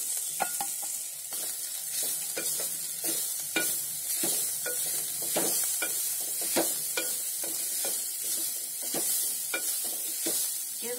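Vegetables with carrots for rava cutlet fry in a pan, a constant hiss of oil under frequent sharp clacks and scrapes of a spatula stirring, close and without speech.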